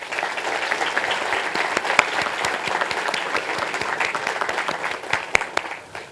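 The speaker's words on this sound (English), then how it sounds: "Let's have a huge round of applause for all of them." An audience in a session at SPJIMR gives a round of applause. The sustained, fairly distant clapping holds steady, with a few sharper individual claps standing out.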